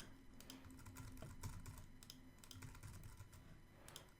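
Quick, soft keystrokes on a computer keyboard come in short bursts with brief pauses, close by and quiet, while a recipe web app is being built.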